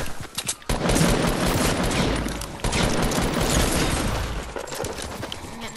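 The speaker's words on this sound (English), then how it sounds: "I can't believe I'm sniping those guys though." Video game gunfire from a sniper rifle and other guns, heard as loud, dense, rapid shots and bursts that run almost continuously with a short gap near the start, with no talk.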